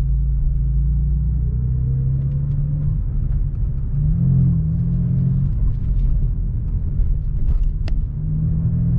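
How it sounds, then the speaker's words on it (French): A BMW M4 F82 cruising on the motorway, its rear differential having leaked, gives a steady low road and engine rumble with tyre drone, constant and close, no talk. "je vais prendre un petit bout d'autoroute pour voir si sur l'autoroute tout est normal, ça fait pas plus de bruit que ça"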